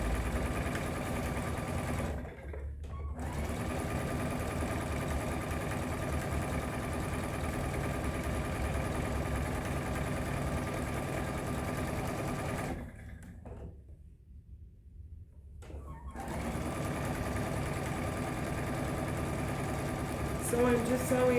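A sewing machine runs steadily, stitching a quarter-inch seam down one side of a fabric panel for a book pillow, with two brief pauses where the motor stops before starting up again.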